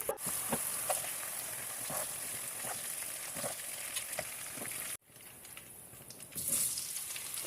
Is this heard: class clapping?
no